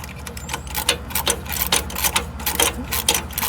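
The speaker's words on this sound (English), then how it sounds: "so the last nut is coming out." Nut being worked off a Nissan Xterra rear hub, a dense, fast ticking and clicking rattle, close and continuous for a few seconds.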